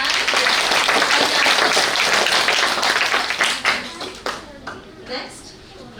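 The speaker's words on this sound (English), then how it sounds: "Students, clap hands." Students clapping hands at a school quiz activity, a loud dense burst of applause that gradually thins into scattered claps and fades over several seconds.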